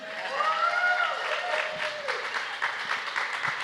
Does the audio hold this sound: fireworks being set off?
no